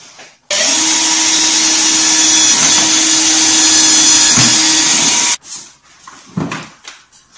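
A power drill bores a hole in a corner of a cutout for fitting a cat flap, a loud steady whine held for about five seconds before cutting off, followed by faint handling clatter.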